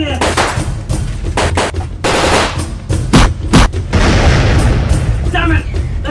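Battle at Stanley airfield in the Falklands War, with dense rifle and machine-gun bursts and heavy booming mortar explosions, loud and continuous, with shouted voices in the mix.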